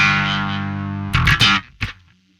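A heavily distorted bass tone through the Aurora DSP Mammoth bass amp sim plugin rings out and decays, followed by a few short, gritty plucked bursts before fading to silence.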